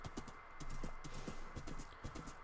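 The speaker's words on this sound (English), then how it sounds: "It's our first horse." Horse hooves clip-clop in Minecraft, a quick run of light, evenly spaced hoof taps at moderate volume with no one speaking.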